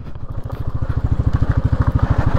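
A motorcycle engine idles and putters with a steady, fast throb on a slippery path to a waterfall, close and fairly loud, with no talking.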